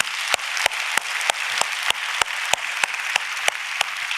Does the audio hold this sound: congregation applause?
yes